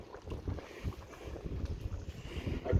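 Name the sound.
wind blowing outdoors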